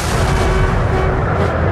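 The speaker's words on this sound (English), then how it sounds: "Napoleon ordered a barrage of his most powerful cannon. 74 guns steadily lobbing cannonballs at Wellington's center." A cannon barrage from 74 of Napoleon's heavy guns at the Battle of Waterloo, a loud, dense, continuous roar of overlapping booms with no break.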